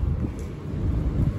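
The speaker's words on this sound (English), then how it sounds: "Today is actually windy." Gusty wind buffets an outdoor microphone on a windy day, a steady low rumble that swells and dips without pause and with no voices.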